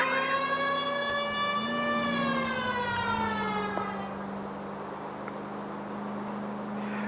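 Police car siren wailing in L.A. Noire, loud and steady with rising and falling harmonic sweeps, then dropping to a lower sustained engine drone after a few seconds.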